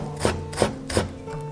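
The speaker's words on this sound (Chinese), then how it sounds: "切一点姜末" Three rhythmic knife chops mincing ginger on a cutting board, evenly spaced about a third of a second apart, close and crisp, with a faint hum underneath.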